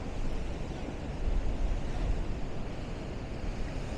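Ocean surf and gusting wind along the coast at Lynn, Massachusetts, a steady broadband roar with buffeting wind noise on the microphone, moderately loud and continuous with no talking.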